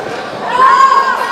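A wrestling crowd cheers for Emilio at an intergender match, a loud swell of mixed voices and shouts that rises and peaks midway through the short burst.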